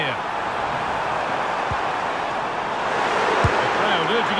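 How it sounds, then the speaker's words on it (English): Stadium crowd noise from the FC 25 video game during a Liverpool vs Chelsea Champions League match, a steady roar that swells toward the end as the crowd urges a player to shoot, under continuous commentary. "The crowd urging him to shoot"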